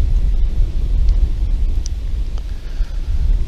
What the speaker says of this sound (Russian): Порывистый ветер не дает делать забросы